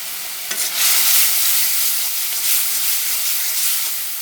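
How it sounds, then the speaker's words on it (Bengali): Chili powder, turmeric and chopped garlic frying in hot oil for aloo dum, a loud dense sizzle that swells after a short knock and stays steady and close for several seconds, with no voices. "ভালো করে মশলাটা কষিয়ে নিতে হবে"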